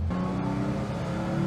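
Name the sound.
1974 Porsche 3 liter 6-cylinder engine revving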